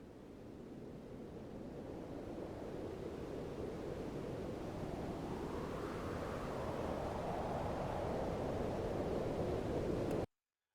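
Howling wind opens a song, a steady broadband rush that swells gradually and holds loud for about ten seconds before cutting off abruptly, with no voices over it.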